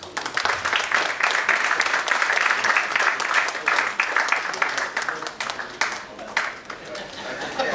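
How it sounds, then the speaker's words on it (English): Audience at a one-day technology seminar breaks into sustained applause, a dense, steady wash of clapping that carries on for the whole stretch with only slight dips in intensity. "A round of applause, please."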